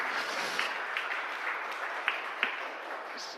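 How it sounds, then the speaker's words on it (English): A few scattered claps from a small audience at a citizen energy advisory conference, sparse and short-lived over a low steady room hiss, with no one speaking. "A few claps"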